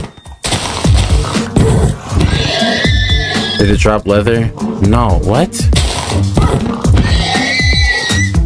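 Horse neighs and whinnies from the video game Minecraft, several bursts, loud and close, mixed with steady game sounds and someone talking over them.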